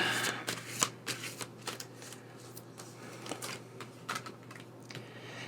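Tarot cards being shuffled by hand, a quick series of soft riffling flicks and slaps in close, steady bursts with no talking over them.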